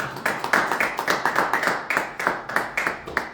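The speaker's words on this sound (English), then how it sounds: "I believe that deserves a round of applause" Clapping at a Toronto meet-and-greet, heard as a short run of evenly spaced claps close by and at a moderate level, with no talk over it.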